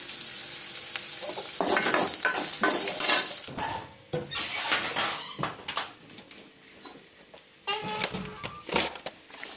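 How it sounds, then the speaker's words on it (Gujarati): Onions fry in a pan with a continuous bright sizzle. A utensil stirs them, adding clattering scrapes and taps against the metal throughout. No one speaks. "તો બસ અહીંયા આગળ ફ્રાય થઈ રહી છે ડુંગળી"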